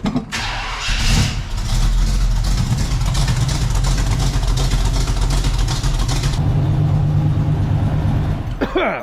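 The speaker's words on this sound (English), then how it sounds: "It's got some Dynamax mufflers on there now, and it doesn't sound too bad." A cammed Chevrolet C10 fires up and settles into a loud, lumpy idle through Dynamax mufflers, its exhaust rumbling close by with brief revs before cutting off.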